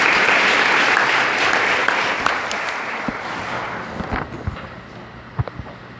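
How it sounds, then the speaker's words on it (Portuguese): Applause from a Catholic prayer group at Pentecost, a broad wash of clapping that swells early and then gradually fades, with a few louder individual claps near the end. "Vamos aplaudir a palavra do Senhor."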